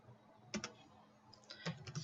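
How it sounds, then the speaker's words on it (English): Typing on a computer keyboard during a software lab demonstration, a few sparse, quiet clicks in small clusters, close by with soft room noise between them. "we're going to type in"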